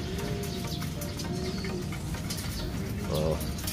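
Pigeons in a loft give low, throaty coos over a murmuring background, with one clearer, louder coo rising near the end.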